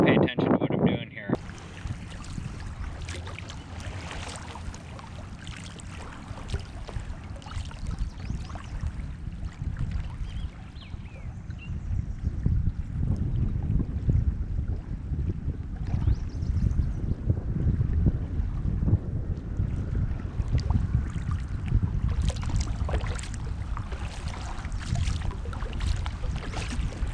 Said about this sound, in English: the wind is not super strong, but it's strong enough that it's blowing us around